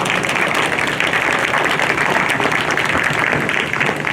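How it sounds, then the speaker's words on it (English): Dense, steady applause from a crowd honoring rabbit exhibitors at the 2020 Bailey County Junior Livestock Show, filling the whole stretch at an even, fairly loud level with no talk over it. "So you guys should give these guys a round of applause."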